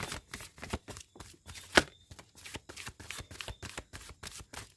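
Tarot cards being shuffled by hand close up in quick, evenly spaced bursts of papery flutter, repeating roughly every third of a second with one sharper snap midway, no talking.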